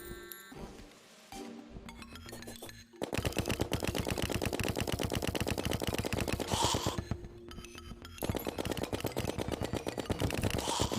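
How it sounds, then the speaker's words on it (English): Tactical skeleton firing a gun in the Terraria video game, rapid repeated game gunfire in dense bursts with a short pause between volleys, loud and alone. "The tactical skeleton has a gun."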